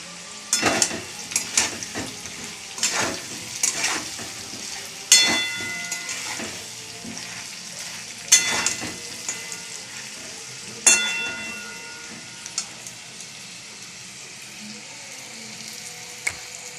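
Food sizzles in a hot pan, with the hiss rising in bursts as it is stirred and occasional clinks of a utensil.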